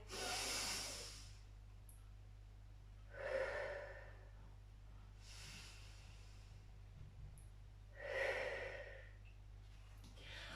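Deep breaths in and out during the cool-down of a cardio and strength workout for older adults, three slow breathing sounds spaced a few seconds apart, soft and close over a steady low hum.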